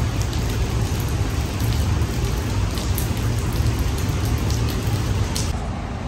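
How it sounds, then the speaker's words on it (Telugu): Light rain falls steadily outdoors near Singapore's Changi Airport, a dense, even hiss with constant patter that holds level throughout and carries no voices. "చూడండి, వర్షం పడుతూనే ఉంది లైట్గా."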